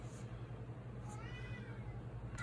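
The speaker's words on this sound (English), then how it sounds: "You hear my kitty kitty?" A pet cat at home gives a single soft, drawn-out meow midway through, rising and falling over a constant low household hum, with no voices.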